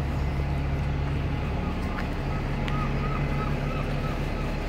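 A bus pulls away from Blyth bus station, its diesel engine giving a steady low rumble that stays loud and close under general station noise throughout.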